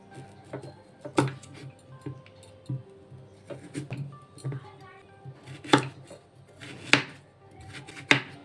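Knife chopping peeled carrots on a cutting board, sharp irregular thuds and clicks, several louder chops near the end, close and with no talk.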